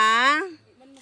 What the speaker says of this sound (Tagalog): Ayan, gutom na yung pusa.